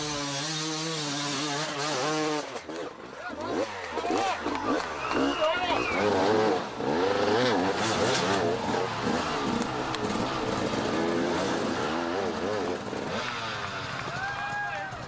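A racing motorcycle at the 2010 Erzberg Rodeo hare scramble revs hard in repeated rising and falling engine sweeps, loud and near, with a commentator talking over it.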